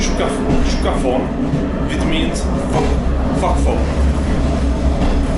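A four-wheeled Czech railbus rattles and vibrates along the rails with a steady rumbling clatter, while someone talks over the noise the whole time.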